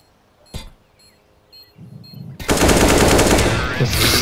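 Counter-Strike: Global Offensive gunfire: after sparse beeps and small clicks, a loud, sustained burst of rapid automatic shots erupts and keeps hammering to the end, close and dominant.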